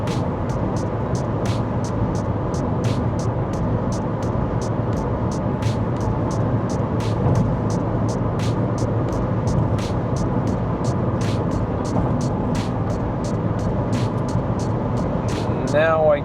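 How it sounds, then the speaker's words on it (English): Inside a 2008 Seat Leon cruising at 110, a steady broad rush of wind and road noise fills the cabin, with a regular ticking repeating throughout. "Now I can pick up the noise from the wind outside the car."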